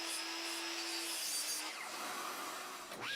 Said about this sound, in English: and I cut it to length over at the miter saw